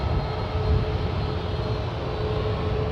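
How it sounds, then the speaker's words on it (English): Air Canada Boeing 737 MAX 8 airliner at San Francisco International Airport, a steady loud jet engine roar with deep low rumble, constant throughout with no speech. "Air Canada 571. They're headed to Vancouver in a 737 MAX 8."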